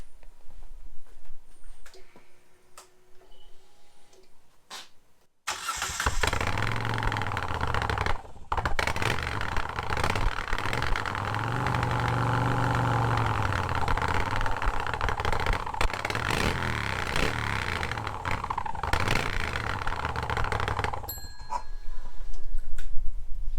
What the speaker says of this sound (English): I think you'll agree that's a pretty serious exhaust.